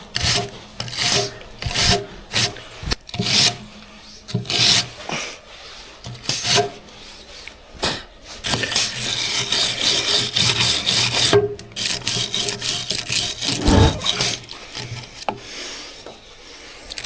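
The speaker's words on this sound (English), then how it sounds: "I'll have to sand to put a wire brush on the thing." A wire brush scrubs old paint off a bolt in bursts of harsh rasping strokes, short and choppy at first, then a longer sustained stretch of loud scraping, all close up with no speech.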